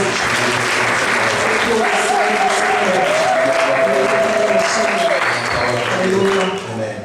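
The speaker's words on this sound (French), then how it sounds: "Est-ce qu'on peut acclamer pour le roi des rois?" A church congregation at a women's convention applauds loudly and steadily for several seconds, a dense wash of clapping with cheering voices mixed in, tapering at the end.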